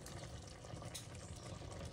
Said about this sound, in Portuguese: Aí vou pegar a chaleira agora, vou jogar um pouco de água aqui dentro.